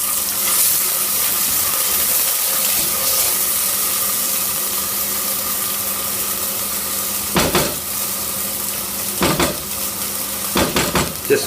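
Rice frying in ghee with cumin seeds in a pan, a loud constant sizzle close by, with a few sharp stirring scrapes toward the end.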